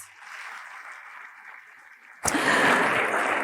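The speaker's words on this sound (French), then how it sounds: "encore des applaudissements s'il vous plaît pour nos chers panélistes" A panel audience at a girls' education day event claps for the panelists: dense, loud applause bursts in abruptly after a steady electronic hum and carries on to the end.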